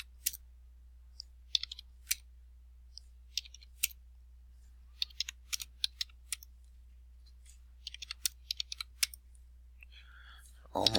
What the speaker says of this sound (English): I'm using the number pad on the right side of the keyboard to type them all in